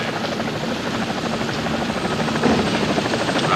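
Helicopter on the flight deck of the aircraft carrier USS Midway, a loud, steady, close rotor and engine drone with fast, pulsing blade chop throughout.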